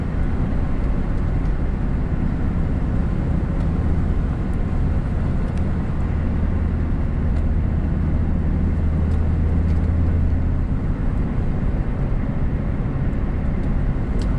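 A car with a freshly repaired exhaust drives along, its loud, steady engine and road roar filling the cabin throughout with no distinct throttle blips standing out.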